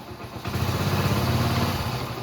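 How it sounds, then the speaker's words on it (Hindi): A motorcycle engine catches and runs with a rough, throbbing mid-pitched drone that rises slightly as the throttle is opened, close by and steady for a couple of seconds. "तो देख लीजिए मैंने बाइक को स्टार्ट कर दिया है और इसका एक्सीलेटर देता हूँ"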